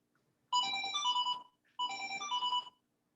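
A mobile phone ringtone plays two short melodic bursts separated by a brief pause, clear and close in an otherwise quiet room.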